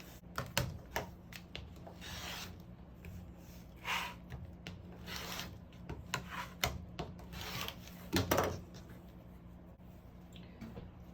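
Quilt fabric being trimmed, dry rasping and rubbing strokes in short irregular bursts with quiet pauses between, close and fairly soft.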